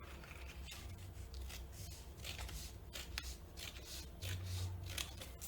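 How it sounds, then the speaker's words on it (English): Scissors cutting through a paper trouser pattern, two layers cut together, giving a steady run of soft crisp snips and paper rustle that continues throughout, close and fairly quiet, with no speech. "I'm going to cut it out together, both together. I'm cutting now."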